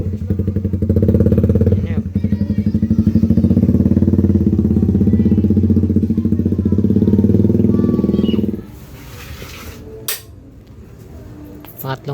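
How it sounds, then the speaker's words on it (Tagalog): Rusi Raider 150 Fi motorcycle with a remapped stock ECU and a loud open exhaust pipe, a close, raw, rapid-firing engine roar for about eight seconds before cutting off to quieter clatter and background noise. "Pangalawang testing na yan mga lods sa open pipe. Napakaingay ng open pipe."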